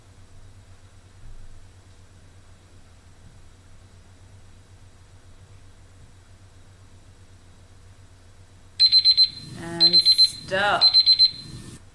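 A timer alarm sounds during a home PE workout, going off in three quick bursts of loud electronic beeping near the end. A short spoken word comes over a long stretch of quiet hum.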